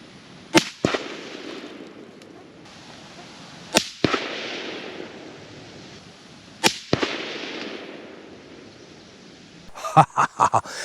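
A Palmetto State Armory AR rifle with a target upper fires .223 rounds at a 200-yard target outdoors. Three loud, sharp shots ring out seconds apart, each trailing a short echo, followed by a quick burst of clattering near the end.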